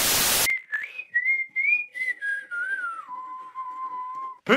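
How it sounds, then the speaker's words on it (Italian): A student whistles in a classroom: a single clear melodic whistle with sliding, wavering notes that settles into a long, steady lower tone. A short burst of noise comes just before it. "non fischiare."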